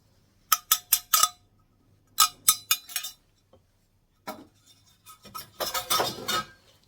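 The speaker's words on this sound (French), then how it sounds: "Et on va bien mélanger ça" A utensil clinks and scrapes against a bowl while coconut powder is stirred into cake batter. Sharp metallic taps come in quick bursts of three or four, followed by a longer, denser scraping passage, close and alone.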